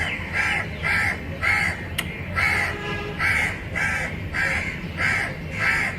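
A crow caws loudly and close by, about ten harsh calls in a steady rhythm, one after another.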